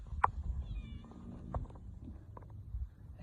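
A cat gives a short, sharp meow close by, followed by faint scattered rustles and a few softer vocal bits over low background rumble.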